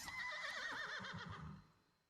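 A horse neighs in the video game The Life and Suffering of Sir Brante, giving one close, wavering whinny that trails off into faint snorting with no talk.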